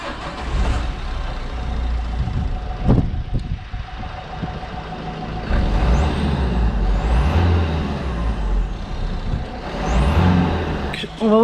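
A warm diesel vehicle engine revved hard during a decarbonization cleaning of the intake and EGR, loud rising and falling revs with a steady low rumble, brief hissing and a few knocks.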